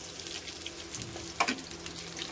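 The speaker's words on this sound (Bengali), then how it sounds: "ফোড়নে দেবো 5 ফোড়ন আর তেজপাতা।" Panch phoron spices and a bay leaf fry in hot oil, giving a faint, close crackle and sizzle with a few sharp pops over a quiet kitchen background.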